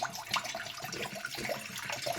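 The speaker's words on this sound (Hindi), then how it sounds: "अब इसमें डालूँगी थोड़ा सा पानी" Water pours from a bottle into a cooking pot, making a soft, continuous splashing trickle at a quiet level.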